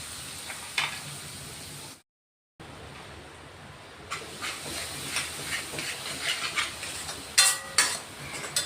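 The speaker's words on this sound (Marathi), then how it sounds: "चांगलं तेल सुटेपर्यंत ना हा मसाला परतून घ्यायचा आहे." Masala spices sautéing in oil in a kadhai over low heat, a soft steady hiss and sizzle with light stirring scrapes, broken by a brief silent gap.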